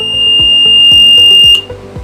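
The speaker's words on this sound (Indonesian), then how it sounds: "smoke detector ini akan bekerja jika dia di depannya mendeteksi asap dan dia akan menghidupkan buzzer ini" A smoke detector set off by smoke sounds its buzzer, a loud, steady high-pitched electronic tone with a pulsing low rumble beneath, holding for about a second and a half before cutting off abruptly.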